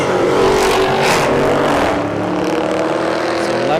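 A Dodge Durango Scat Pack and a Scat Pack 1320 Challenger run a street drag race at a motorsports park, and loud engines roar as the cars surge past nearby, then fade a little toward the end.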